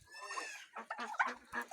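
Farmyard poultry, including turkeys and geese, cluck and call during the morning grain feeding, several birds sounding close together in overlapping bursts with no talking.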